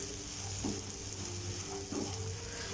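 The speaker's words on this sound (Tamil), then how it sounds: "ஸோ சாதம் சேர்த்து நல்லா மிக்ஸ் பண்ணி விட்டுக்கோங்க." Cooked basmati rice is stirred into capsicum masala in a hot pan, giving two soft scraping strokes over a faint, constant sizzle.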